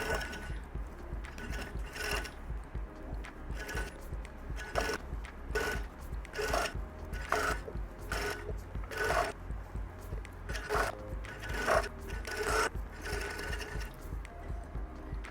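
A sewing machine stitching knit fabric with elastic, a steady rapid mechanical clatter with a low motor hum underneath and regular pulsing needle strokes, running continuously and close up with no talk.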